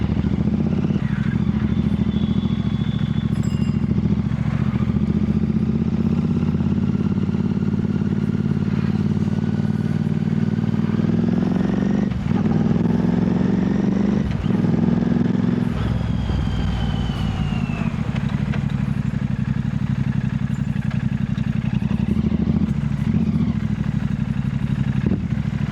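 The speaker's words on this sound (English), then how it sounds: "We are going to be riding Goan Classic 350." A Goan Classic 350 motorcycle being ridden, its steady engine drone continuous and loud throughout, with slight pitch shifts as the revs change and some wind and road noise.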